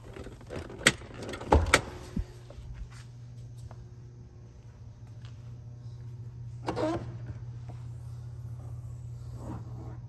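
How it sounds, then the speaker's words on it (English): The hood of a 2008 Corvette C6 is released and lifted, with a cluster of sharp mechanical clicks and a thunk near the start, then a steady low hum and a later rattle of handling. "Pop the hood real quick"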